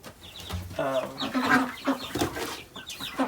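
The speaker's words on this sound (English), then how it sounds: "This was one of the boxes, and it had 20 birds in it, Cornish cross, and 1 surprise chick." Cornish cross meat chicks in a shipping box peep and cheep in quick overlapping bursts, close and busy, several birds calling at once.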